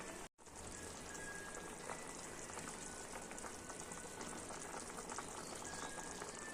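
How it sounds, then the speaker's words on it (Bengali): A potato and pointed gourd curry boils in a pot, producing a steady, faint bubbling hiss after a brief silent gap at the start. "ঝোল ফুটে গেছে"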